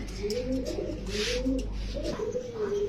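Teddy pigeons coo at a Bangladeshi pigeon market, a few soft, rolling coos in steady succession over a low background hum, close by and fairly clear.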